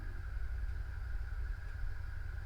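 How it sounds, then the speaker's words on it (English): A loud motorbike engine drones steadily up close, a deep continuous rumble with a constant tone running through it. "Oh my god, that motorbike is so loud."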